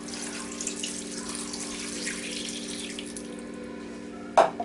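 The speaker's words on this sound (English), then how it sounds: "Alright, so I just add 2 cups of water." Two cups of water poured into a seasoned pot of garlic and scallion for brown stew chicken, a steady close gush running for several seconds, ending with a sharp clunk.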